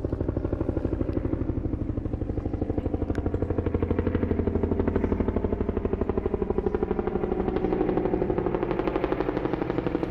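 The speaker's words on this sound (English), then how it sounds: "A helicopter." A helicopter in the video game Metal Gear Solid V: The Phantom Pain drones steadily with a fast, even rotor chop, loud and close, holding for the whole stretch with no talk.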